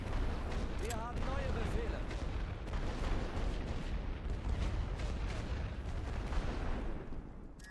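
Heavy artillery barrage in a World War I Western Front strategy game, a constant roaring rumble of shell impacts and booms. Brief game sound effects chirp early on.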